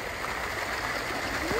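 Ocean surf washes in at a beach in Mexico, a steady broad hiss of rushing water that stays loud and close for the whole short stretch, with faint voices nearby.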